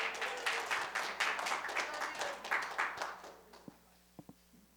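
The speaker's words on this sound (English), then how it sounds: "I think that's the first time anyone's ever clapped for me" A small audience at a building update meeting claps steadily for several seconds, the applause thinning out into a few scattered, isolated claps at the end.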